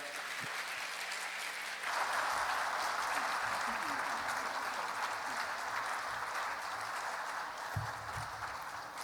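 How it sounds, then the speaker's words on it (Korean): A church congregation at a Friday worship gathering applauds as the pastor comes forward, a broad sustained wash of clapping that swells after a couple of seconds and holds steady, with voices faintly beneath. "목사님 나오실 때 여러분 큰 존경의 박수를 보내주시면 좋겠습니다"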